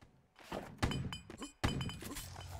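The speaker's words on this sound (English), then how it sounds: "is that different hit sounds for your teammate?" Sharp, punchy thunks and glassy cracking impacts land in quick succession in a team deathmatch shooter game with railguns and grenades, fairly faint overall.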